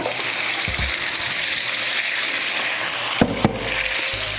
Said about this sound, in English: we're just gonna fry it up for about 2 to 3 minutes